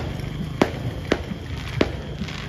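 Sharp, loud booms from New Year's Eve fireworks go off three times at roughly even intervals, with some fainter pops and crackles in between, over a dull background hum.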